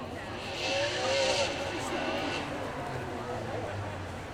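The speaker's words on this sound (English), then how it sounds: "Now we're moving from 8 cylinders, adding 4 more to have this V12 in the front of our Ferrari" A Ferrari with a front-mounted V12 engine drives by at a supercar weekend demo, its engine a steady mid-distance roar that swells and then settles. Someone talks over it throughout.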